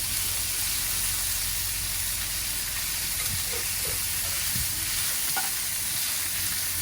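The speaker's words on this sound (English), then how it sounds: "you just want to brown it first, which it is being seared off, and it is being browned fairly quickly" Philly cheesesteak meat sears and browns in a hot pan, giving a steady, bright sizzle and hiss with a few soft stirring scrapes and no voices.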